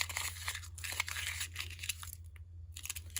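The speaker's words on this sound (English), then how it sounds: "Let's do a crumple." Paper being crumpled by hand for a junk journal page, a close series of crinkling, crunching rustles that pause briefly near the end, with a steady low hum underneath.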